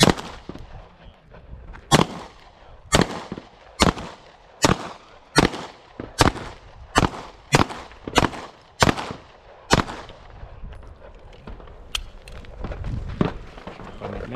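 Pistol shots from a 4-inch M&P Shield Plus Performance Center fitted with a Holosun EPS Carry MRS sight at an outdoor range: about a dozen sharp, loud reports at a fairly even pace roughly one per second, each with a short decay.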